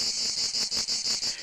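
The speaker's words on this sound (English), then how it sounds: "It's a sound you'll hear a lot of this spring when millions of the big-eyed insects emerge." Cicadas from an emerging spring brood call in a loud, continuous high-pitched drone, pulsing in steady rhythmic swells close by, with no voices.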